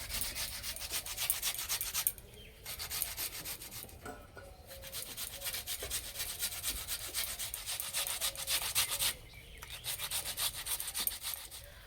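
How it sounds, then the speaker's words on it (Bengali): Boiled sweet potato being grated for pantua, a continuous rhythmic rasping of strokes against the grater, close and fairly loud, with brief pauses between passes and no talking. "আলুটাকে এবার গ্রেট করে নেব।"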